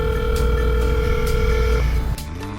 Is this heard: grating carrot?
no